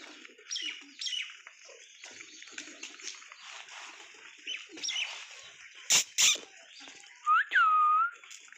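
Pigeons feed outdoors in a loft yard, giving soft scattered calls and coos, a couple of sharp clicks near the end, and a short clear whistle-like note.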